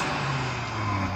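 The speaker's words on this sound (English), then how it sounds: "let's rev up the RS3 and experience some more soft limiterage" An Audi RS3 engine held at high revs in snow, droning steadily against the soft rev limiter with a slight bouncing edge, close and continuous.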